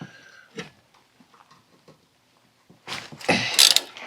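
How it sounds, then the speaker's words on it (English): A 5 mm tool works a corroded brake rotor retaining screw on a 1998 Mercedes-Benz C230, with a flat bar braced to hold the rotor still. Light scattered clicks come first, then a louder burst of grinding, scraping metal near the end. "We're trying to use this flat bar here to hold it still so we can take this retaining screw off for the brake rotor"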